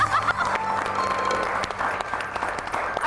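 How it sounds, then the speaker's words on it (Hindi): A studio audience clapping only half-heartedly: a short, thin patter of applause at moderate loudness that fills the few seconds, with no voices over it. "आप लोगों ने बहुत मरी हुई तालियां बजाई।"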